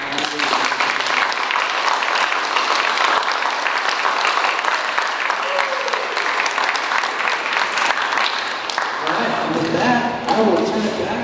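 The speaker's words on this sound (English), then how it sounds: "Give them a round of applause." Sustained audience applause fills a school board work session on a Thursday evening, dense clapping from a room of parents, teachers and students that runs steadily for about eleven seconds before thinning as scattered voices emerge near the end.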